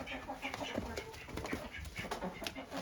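A hen in a backyard coop clucks in short, repeated bursts among ducks, the calls close and steady over a busy yard background, with faint speech mixed in.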